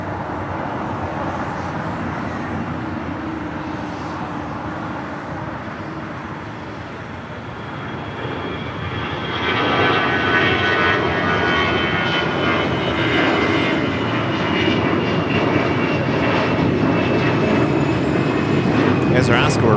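An airplane on LAX runway 25 Right gives a steady engine roar that swells noticeably about halfway through and stays loud, with radio talk over it.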